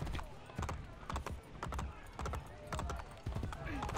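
Horse hooves galloping in the game Assassin's Creed Brotherhood, a steady rhythmic clip-clop of close, repeated hoofbeats over the whole stretch, with a player talking over them.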